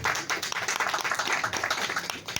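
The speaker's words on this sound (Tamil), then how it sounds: "அவர்களுக்கு நல்ல கரகோஷம் கொடுக்கணும்." Audience applause at a birthday celebration event for the event's chairman, a dense continuous patter of many hands clapping together at moderate volume, with no talk over it.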